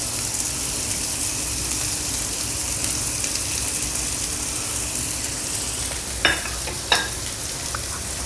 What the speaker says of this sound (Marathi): आपण लगेच ते थोडेसे परतून घेऊया